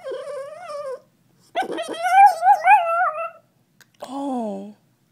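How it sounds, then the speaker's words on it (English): A miniature pinscher yaps and whines in three separate bursts of high, tonal barking with short silences between them, close and fairly loud, with no talk over it. "stop barking. Stop barking."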